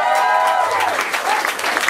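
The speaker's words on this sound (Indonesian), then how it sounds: "Kita udah cukup bersenang-senang, betul? Tepuk tangan dong." Audience applause at an Indonesian stand-up comedy show, a steady dense wash of clapping and crowd noise mixed with voices and cheering throughout the short stretch.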